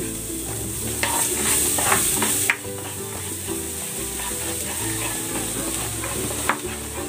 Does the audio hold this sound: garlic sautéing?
yes